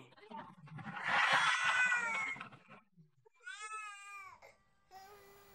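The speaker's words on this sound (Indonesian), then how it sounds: "Ada suara bayi nangis." A baby cries in a long, loud wailing burst, followed after a pause by shorter, higher-pitched wails and whimpers. Close and clear, with no other sounds.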